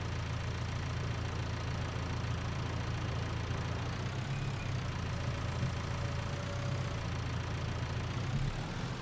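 Tractor engine idling steadily in Farming Simulator 19, a continuous low rumbling drone that holds at an even level throughout, with no talk over it.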